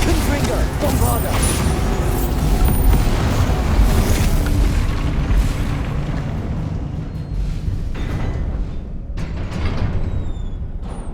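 Bombarda and Confringo spell explosions in the video game Hogwarts Legacy, a dense run of loud booms and blasts one after another, with a voice shouting over the barrage.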